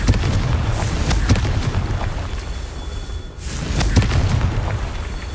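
Confringo fire spell explosions in the Hogwarts Legacy video game: sustained rumbling blasts peppered with sharp cracking impacts, a brief lull, then another loud surge of booming fire.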